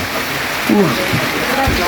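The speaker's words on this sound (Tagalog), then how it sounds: "Lakas pa ng ulan" Steady rain falling hard and close at about 3,943 meters altitude on the Everest Base Camp trek between Tengboche and Pangboche, a constant wash of noise, with faint voices mixed in.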